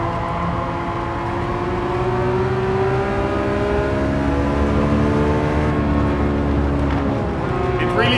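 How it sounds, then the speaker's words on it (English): A race car engine in Gran Turismo 7 revs high and holds a loud, steady whining drone with layered harmonic tones that climb slowly, close and continuous throughout. "you can really ring out this car high in the revs."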